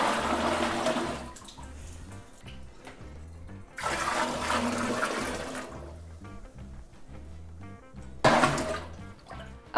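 Water is poured by the gallon into a homebrew kettle for an extract American ale, in three separate splashing bursts with short pauses between them, heard up close.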